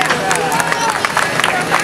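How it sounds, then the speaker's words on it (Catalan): Crowd applause and chatter at a children's casting for a princess and knight, a dense spread of clapping and babble filling the room, steady and fairly loud throughout. "Un fort aplaudiment per ell."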